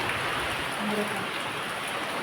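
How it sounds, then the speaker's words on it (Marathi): Dense, steady hiss of heavy rain and gusting cyclone wind, constant and close, with a faint voice briefly murmuring underneath. "चक्रीवारा आणि पाऊस दोन्ही पण आहे"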